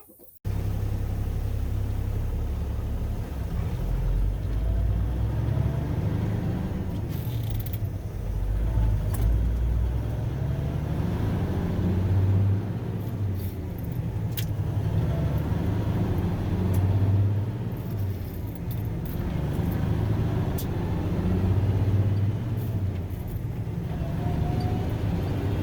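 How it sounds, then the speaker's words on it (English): A Kenworth W900A truck on a test drive after a brake job gives a steady, loud engine and road rumble from inside the cab, with a continuous drone and occasional faint rattles throughout. "we'll go for a test spin and see how we do."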